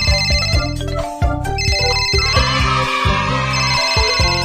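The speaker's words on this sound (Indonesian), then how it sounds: "Telepon berdering, ayo kita lihat apa yang terjadi" A telephone rings loudly with a repeating electronic melody, steady and close.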